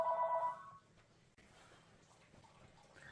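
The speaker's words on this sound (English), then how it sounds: "And there's my phone." A mobile phone rings in a home kitchen, a short bright electronic ringtone that sounds loud for about half a second and then stops, leaving faint room noise and a little running water.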